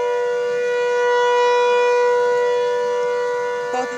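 A civil defense tornado siren in Merrill, Wisconsin, sounding as a loud continuous wail that swells slightly and then eases, with a brief faint extra noise near the end and no voices.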